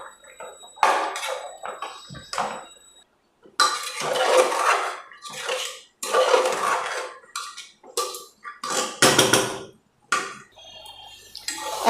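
Ingredients for a no-oil ghugni being sautéed in a pan, heard as repeated clattering bursts of utensil on metal with scraping and clinking, loud and close, in short separated bouts without talk.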